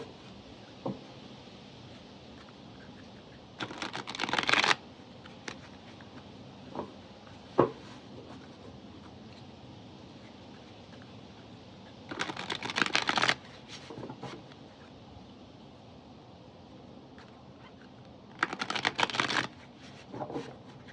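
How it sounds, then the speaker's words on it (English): A deck of cards shuffled in three separate bursts of rapid riffling, each lasting about a second, with quiet pauses and a soft tap in between. "I will shuffle 5 times before I cut the deck and pull the cards."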